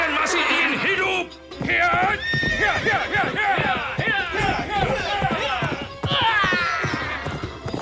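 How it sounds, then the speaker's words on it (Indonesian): In a radio drama, horses gallop with rapid clip-clop hoofbeats and repeated shrill neighs and whinnies, loud and busy throughout, with voices speaking over the commotion. "Kuda yang ditunggangi Ikrimah dengan susah payah berhasil melompati parit"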